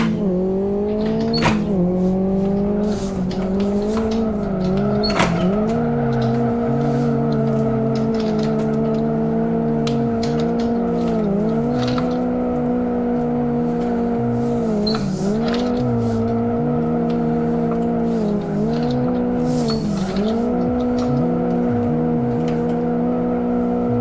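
A race car engine in a drift and racing simulator game howls loudly through repeated gear changes, its pitch climbing and dropping in waves, with short clicks and faint tire noise over the steady engine tone.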